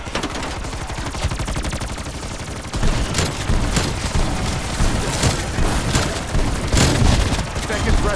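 Light machine gun fire in Call of Duty Cold War, loud sustained automatic bursts of rapid shots that grow heavier partway through, with voices mixed in.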